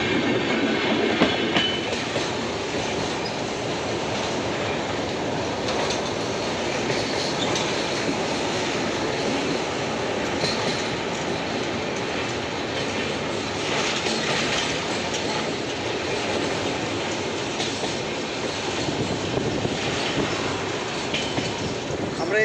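The Saraighat Express rolls on after leaving Malda station, a loud, steady rumble and clatter of wheels on rails heard from inside a sleeper-class coach, with some faint squeal and no clear talk.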